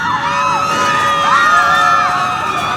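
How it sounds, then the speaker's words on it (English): Passengers scream as the Titanic sinks at night: a dense, continuous wall of many voices crying out together, loud and unbroken throughout. "That's when the screaming started."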